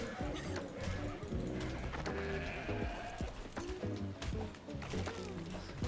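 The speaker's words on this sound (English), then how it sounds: "I'm going to kill these sheep as well, get myself a little bit of hide." Sheep in the ARK survival video game bleat while being killed, with repeated low, wavering cries layered over steady background game noise at moderate volume.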